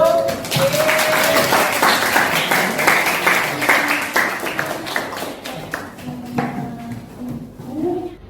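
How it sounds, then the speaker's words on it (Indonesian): Classmates applaud a student group in an Indonesian-language class, a loud burst of many hands clapping that slowly thins out and fades, with scattered voices. "kita beri tepuk tangan untuk kelompok 1"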